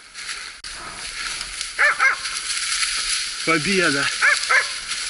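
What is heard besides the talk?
hunting dogs barking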